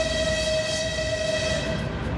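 The driver of a St Petersburg–Sevastopol passenger train sounds a sustained, steady horn blast from up the train, heard over the rumble of the moving carriages.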